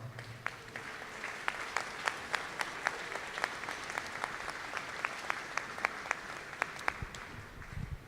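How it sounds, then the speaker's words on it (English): An outdoor ribbon-cutting crowd at an aquatic center applauds public servants, producing a sustained patter of many hands with distinct sharp claps standing out, fairly faint and distant, with no talk over it. "let's give these public servants a round of applause"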